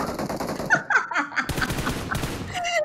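Bursts of automatic gunfire from the PUBG Mobile video game on the Erangel map during a tournament match, with rapid sharp cracks in clusters over a couple of seconds, some closer and some farther off.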